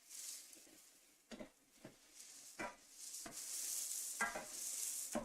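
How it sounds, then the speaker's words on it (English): Vegetables, including sweet potatoes, are stirred in a sizzling pan for a pesto stir fry, with several scraping strokes over a quiet, steady frying hiss. "So it's been long enough that I'm going to stir mine again."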